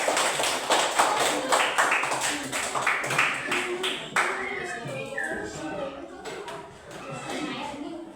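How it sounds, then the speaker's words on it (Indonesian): A class of children clapping their hands in a quick, uneven burst of claps that fades after about four seconds, leaving a noisy room with children's voices chattering. "tepuk tangan dulu kita semua"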